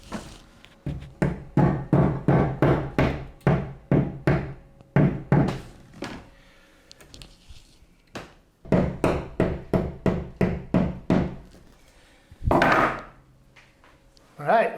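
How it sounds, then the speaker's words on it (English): A hammer taps pieces into place in a rapid, rhythmic series of close, sharp wooden knocks, broken by short pauses and one heavier thump near the end. "Let's tap these in. Should have a hammer right here."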